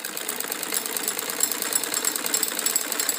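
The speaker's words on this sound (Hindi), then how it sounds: "अब ऊपर की तरफ सिलाई लगा रहे हैं" Sewing machine stitching the upper side of a salwar hem (mori) lined with foam, a steady fast mechanical whir with dense rapid ticking, continuous and close, no talking.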